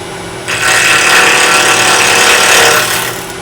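A wood lathe spinning a small vase in a miniatures workshop, a loud close steady whine and rumble that starts abruptly, holds for about three seconds and then fades.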